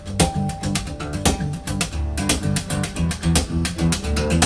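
Quick, rhythmic guitar strumming with rapid thumb upstrokes on the low strings, driving and steady, close and fairly loud.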